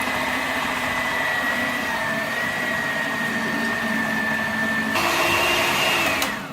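Electric mixer whirring steadily as it beats eggs with sugar for a chocolate Yule log, close and continuous, its pitch rising when the speed is changed near the end.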